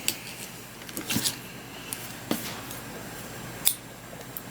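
Scissors snip through a knot in Mary Maxim Super Soft yarn, giving a few quiet, crisp cuts spaced about a second apart against a faint, still room.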